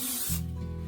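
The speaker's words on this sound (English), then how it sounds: "I have cooking spray, so I'm going to just make sure this is nicely oiled so that the fish doesn't stick on it" Cooking spray hisses onto a pan being oiled for tilapia, one short close burst that cuts off abruptly, followed by a low steady hum.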